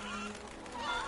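Chickens clucking in the MediEvil video game, a short burst of squawky, honking fowl calls, fairly loud and close, heard alone without talk.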